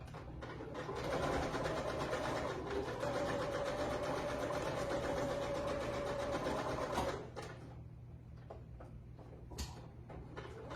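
A sewing machine runs steadily while stitching a pillow, a continuous close mechanical whir that holds for about seven seconds before stopping, leaving faint room noise and a few small clicks.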